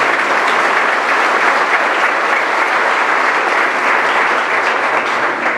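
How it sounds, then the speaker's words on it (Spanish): A church congregation applauds as a dense, steady burst of clapping from many hands, loud and sustained for several seconds with no talking over it. "Den un aplauso a ese Dios maravilloso"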